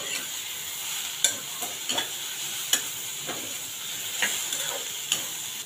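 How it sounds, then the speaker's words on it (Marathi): Garlic, ginger and spice masala frying in oil for a Konkani-style black chana masala, with a constant close sizzle and periodic sharp scrapes of a spoon against the pan, no voices. "1-2 ते 3 मिनिट आपल्याला हा मसाला चांगला परतून घ्यायचा आहे तेलावर"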